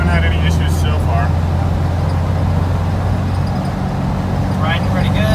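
A 1969 VW camper van with a new engine cruising down the road, a steady low engine drone and road rumble from inside the cab, with people talking over it.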